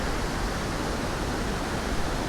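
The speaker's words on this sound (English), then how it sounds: "that's Hoghton Bottoms and Brook Waterfalls all in one day" Waterfall at Hoghton Bottoms with violent water flow, a dense, unbroken roar of rushing water, loud and steady throughout with no other sounds.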